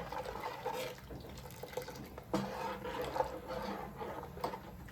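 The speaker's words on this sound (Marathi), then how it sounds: "तुमच्या अंदाजाने तुम्ही पाणी ते घालू शकता" Water is poured into cooking batter, giving a soft, fairly quiet trickle and splash that continues for a few seconds, with no talk.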